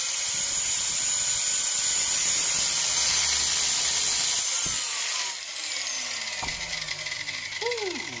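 A power tool cuts through part of an old metal spanner being made into a custom car key, giving a loud, steady, high grinding whine that shifts pitch about midway and then carries on at a slightly lower level.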